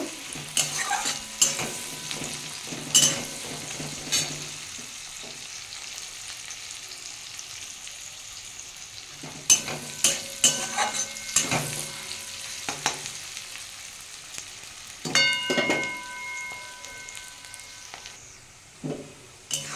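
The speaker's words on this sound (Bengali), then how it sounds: "আমার পেঁয়াজটা অনেকটাই ভাজা হয়ে গেছে" Onions sizzling and frying in a pan with turmeric, for brinjal bharta, with bursts of stirring and scraping that come and go, quieter stretches between.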